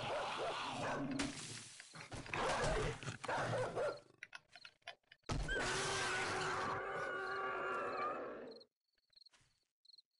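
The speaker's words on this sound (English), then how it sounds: "Loud ass dog." A dog barks loudly in the survival video game 7 Days to Die, in repeated harsh bursts over game noise and a roaring, crashing mix of sounds, with a short quiet gap midway.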